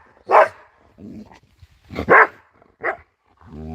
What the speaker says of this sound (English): You don't bark.